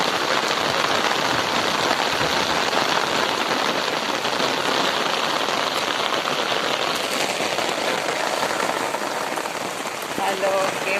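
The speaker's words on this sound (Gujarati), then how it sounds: "ભાવનગરમાં આજ સવારનો વરસાદ ચાલુ થઈ ગયો છે." Morning rain falls steadily in Bhavnagar city. It makes a dense, continuous patter on surfaces that stays close and even throughout.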